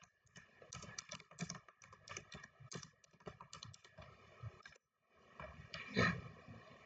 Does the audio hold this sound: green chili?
no